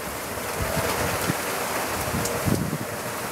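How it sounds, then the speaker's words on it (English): Steady hiss of storm rain fills the scene, with a few soft patters and gusts rising and falling, no voices. "It's raining."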